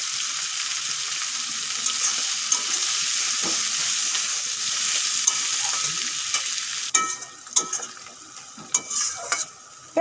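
Whole garam masala spices and onions frying in hot oil for a mutton curry, a steady close sizzle with scattered crackles and pops that turn sharper and more broken toward the end.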